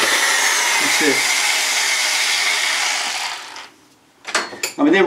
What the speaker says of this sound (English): I'm pulsing the drill so I don't overheat the drill bit and speed it up too much